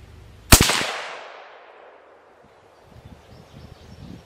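A single loud crack from a Remington 700 ADL rifle firing a .223 custom handload, with a long echoing decay trailing off, followed by faint low rustling.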